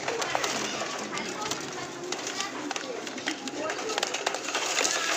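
Pigeons, a mix of males and females, coo softly at close range among fluttering and rustling, with people talking over them throughout.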